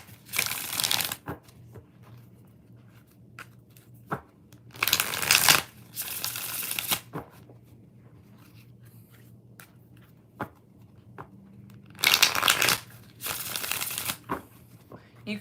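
Tarot cards are shuffled in several separate riffling bursts spread over the stretch, close and crisp. Soft shuffling and handling noises fill the gaps, and a voice talks quietly in the background.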